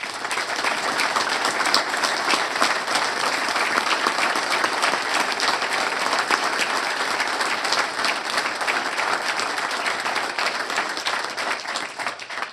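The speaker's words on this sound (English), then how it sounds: "I would ask each one of you to give another round of applause for Sam Heaton." Cobb County Board of Commissioners meeting audience giving a round of applause, a full steady clapping from a room of people that holds at even loudness for over twelve seconds with no talk.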